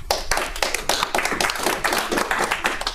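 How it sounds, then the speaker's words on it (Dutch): Audience applause at a hacker conference talk, close and lively with distinct sharp hand claps in an irregular rhythm, sustained for the full few seconds without speech. "Applaus."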